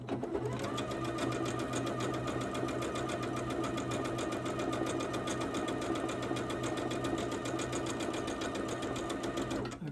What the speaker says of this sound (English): we're going to sew a 1/4 inch away from the line, both sides.